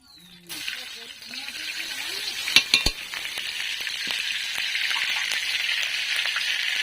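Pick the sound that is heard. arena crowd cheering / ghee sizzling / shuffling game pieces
ghee sizzling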